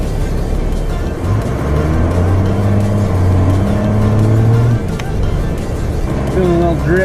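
A car drifts on a slick, snowy road, its engine droning and rising in pitch as it revs. A voice talks over the engine throughout.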